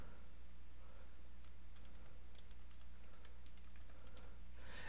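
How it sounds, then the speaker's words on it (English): Light, rapid keystrokes on a computer keyboard tap out in quick irregular bursts, quiet and close, above a low constant hum. "So I can basically type in my email address"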